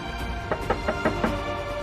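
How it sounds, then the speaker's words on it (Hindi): Knocking on a door, in a Hindi TV drama about Dr B R Ambedkar, comes as a series of about five moderate, evenly spaced raps over a steady hum of background music. "कुछ देर दरवाजा खटखटाएगा"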